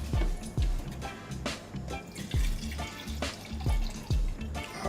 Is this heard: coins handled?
no